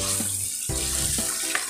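Water pours briefly into a cooking pot of fried masala for a cauliflower and potato curry, a close, steady splash and trickle lasting under two seconds, with a faint tonal hum behind it.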